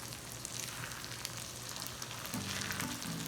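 Fish rica-rica simmers and fries in a pan, a soft, constant crackling sizzle heard close and fairly quiet, with a low steady hum underneath and no talking.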